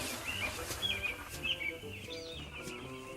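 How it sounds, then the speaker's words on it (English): Several birds sing and chirp on a bright summer day among flowering fields, bright repeated tweets and short whistled phrases over a soft low background hum, moderately quiet. "the birds sang sweetly"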